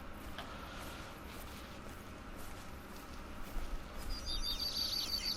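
Birds singing in the New Zealand forest map of theHunter Call of the Wild, a faint high twittering that builds near the end over a steady background wash of wind and rustle.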